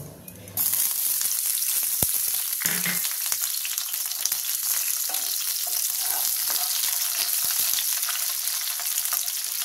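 Capsicum hits a hot pan with a sudden, loud burst of frying, then a dense, continuous close-up sizzle with scattered small pops and taps.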